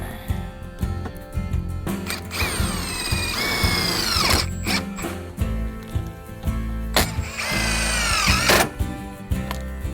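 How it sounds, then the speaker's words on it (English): A power drill drives self-drilling screws through a metal support bracket for a vinyl composite rail kit, with two loud rising whines as each screw bites in, set among steady mechanical whirring and clatter. "We have the self-drilling screws, which will help go through the metal"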